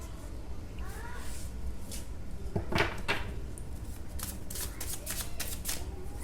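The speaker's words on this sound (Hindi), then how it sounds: "पहले मैं कार्ड्स निकाल लूँ फिर एक्सप्लेन करती हूँ" Tarot cards are shuffled and drawn by hand in quick, crisp riffling bursts of papery flicks and snaps, close and fairly loud. A faint voice lingers in the background.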